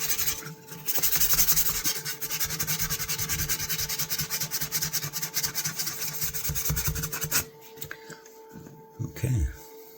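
An old Richards knife blade is sharpened with rapid back-and-forth rubbing strokes, a close, rhythmic gritty scraping that continues for several seconds and then stops, leaving quieter handling sounds.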